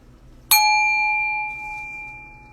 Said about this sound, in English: Bell sounds so good to my heart.